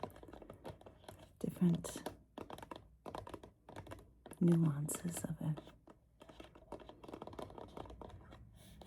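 Fingers type softly on a mechanical RGB keyboard, giving scattered clacks and taps in irregular bursts. A quiet whispering voice is heard between and over the keystrokes.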